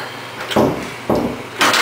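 A door in a new apartment being forced open with difficulty, three separate loud thumping bangs about half a second apart, close by with no talking.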